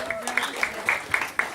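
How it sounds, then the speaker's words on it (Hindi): Wedding guests applauding in a quick uneven patter of claps, moderately loud, with a voice briefly audible over it at the start. "जी हाँ जोरदार ताली से अभिषेक शर्मा के लिए"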